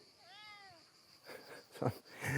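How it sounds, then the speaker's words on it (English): A cat lets out one clear, close meow under a campground awning, followed by rustling and knocking movement sounds. "He always talks, this cat."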